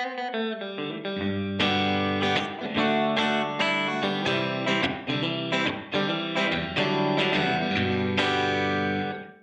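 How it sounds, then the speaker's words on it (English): An electric guitar through a Donner reverb pedal on its room setting plays sustained, distorted chords and notes with a roomy reverb tail filling the space between strums. "Here's room reverb."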